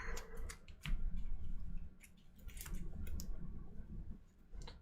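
Cards from a DC deck-building board game shuffled by hand, a run of soft riffling clicks and flicks close by over a low room rumble, with no talking.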